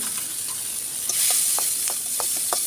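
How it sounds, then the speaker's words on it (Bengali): Green chillies, then garlic, frying in a pan for a traditional Mymensingh village-style spicy fish bharta: a steady close sizzle with brief louder spits and stirring scrapes, with no voices. "কাঁচা লঙ্কাটা একটু ভাজা হয়ে গেলে তার মধ্যে দিয়ে দিচ্ছি রসুন"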